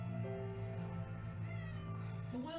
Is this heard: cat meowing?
yes